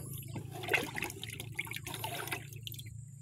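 Water being poured into a sprayer tank mixed with fungicide on a farm, a soft, low-level splashing and trickling with small drips, faint and close.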